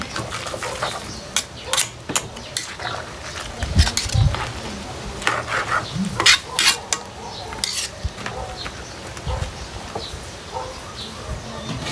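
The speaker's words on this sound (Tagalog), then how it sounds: "kumukulo na siya. Halo lang natin. Haluin ng haluin hanggang sa maluto." Irregular clinks and scrapes of a utensil stirring boiling jackfruit and coconut milk stew with smoked fish in a pot, with soft bubbling underneath and brief thumps, fairly close.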